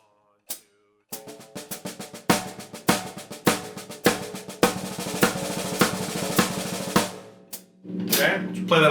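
A drum plays steady sixteenth notes in which only the first stroke of each group is struck harder, giving a regular pulse of loud accents over quieter rapid strokes. A single opening hit comes before the pattern, and a brief sustained ring follows near the end.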